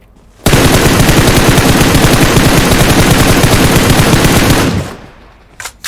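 Sustained automatic gunfire in the mobile battle-royale game PUBG Mobile, one loud, dense burst running for about four seconds before cutting off, followed by a couple of faint clicks and no talk.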